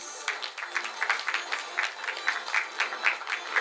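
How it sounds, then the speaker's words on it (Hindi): A crowd at the premiere of Kattalan claps for Parth Tiwari in quick, rhythmic bursts, fairly close and moderately loud, with no voices standing out. "a big round of applause for Mr."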